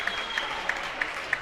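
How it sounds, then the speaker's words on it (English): Supportive home crowd at a high school JV basketball game against Olmsted Falls fills the gym with continuous cheering and clapping, with a few sharp claps standing out at a regular pace. "Olmsted Falls crowd, pretty livid out here. Very supportive."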